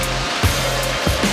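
An industrial spin dryer whirling wet coal at high speed after washing, a loud steady mechanical drone with a low hum, broken by a few brief thumps and surges.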